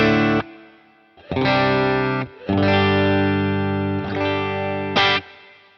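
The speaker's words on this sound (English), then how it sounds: "plate reverb is quite a bright sounding reverb, and I really like the plate inside the Boss Katana" Distorted electric guitar chords through a Boss Katana amp set to plate reverb, several sustained strums separated by brief pauses, bright and smooth in the decay, loud and up close, no voices.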